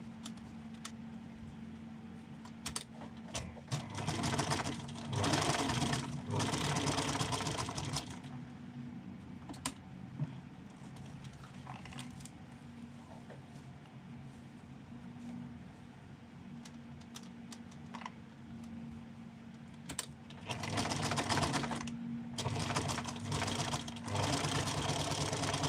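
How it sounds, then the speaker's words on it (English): A sewing machine stitches a seam closed on fabric, running in a few short bursts of rapid mechanical whirring with quieter pauses between, close by. "I just want to sew that closed."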